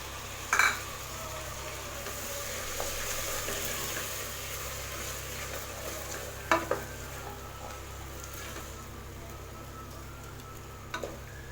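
Two tomatoes sauté over a medium flame in a pan for a soya chunk biryani, a soft continuous sizzle broken by a few sharp clinks of a spoon against the pan, fairly quiet and close.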